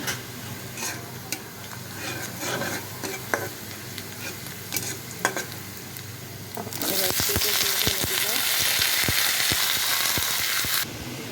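Onions frying in a pan at home, with frequent scraping stirs and clinks over a low sizzle that swells into a loud, dense hiss for the last few seconds before cutting off.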